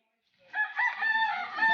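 A single rooster crows nearby, a loud drawn-out call that starts after a moment of silence and runs to the end.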